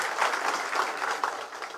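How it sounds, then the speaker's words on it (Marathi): A crowd at a political party induction event claps briefly in welcome, a short burst of dense, moderately distant applause. "आपण जोरदार जरा टाळ्या वाजवून त्यांचं स्वागत करावं"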